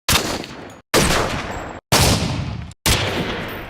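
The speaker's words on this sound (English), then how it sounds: "And you got some big old gunshots." Gunshot samples from the Modern Warfare 2 video game play as four loud, booming blasts in a row, each ringing out for most of a second before cutting to near silence, with no other sound around them.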